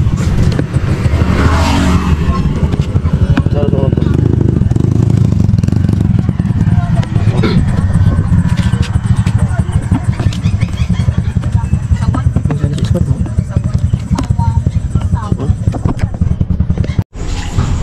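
A motorcycle engine runs steadily after a fresh battery is fitted, a loud, close, continuous rumble holding for the whole stretch with some voices faintly underneath.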